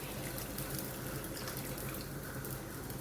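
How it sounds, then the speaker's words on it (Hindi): Water is poured into a pot of fried chickpeas for a chickpea and rice dish, a faint, continuous splashing and trickling stream heard alone without speech. "और अभी मैं पानी डालूंगी।"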